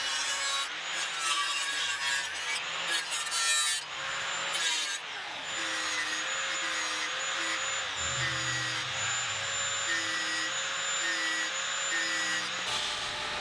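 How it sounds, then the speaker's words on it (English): An angle grinder with a cutoff disc slices an old steel saw blade into narrow strips for plane irons, giving a loud, close, continuous abrasive grinding whine whose pitch shifts slightly as the disc bites, with no talking. "I'll use an angle grinder with a cutoff disc to cut these down into just over half inch wide strips."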